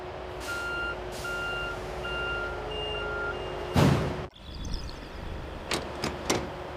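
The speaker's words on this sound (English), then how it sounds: "the truck reaches the unloading area." Truck reversing beeps sound at a factory unloading area, a steady run of evenly spaced tones, then a loud hiss like an air brake and a few sharp knocks.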